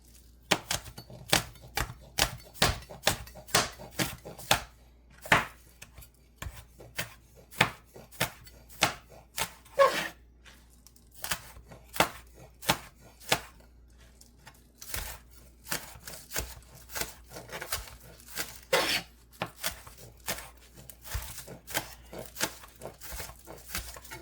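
A knife chops lamb on a cutting board in a steady run of sharp, close knocks. The strokes come in quick bursts with short pauses, and there is no talk.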